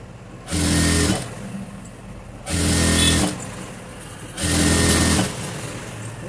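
A sewing machine stitching pieces of dress fabric runs in three loud, close bursts of steady whirring, each about a second long, with pauses of quiet rustling between them.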